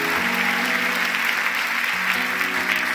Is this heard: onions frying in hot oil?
no